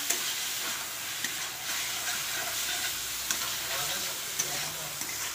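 Button mushrooms fry with spices in an Indian-style preparation, a loud, continuous close sizzle and hiss with occasional stirring knocks, and no talking.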